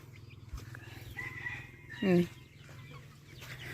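Chickens and ducks, loose together, cluck continuously close by, with one louder squawk in the middle, over a low steady hum.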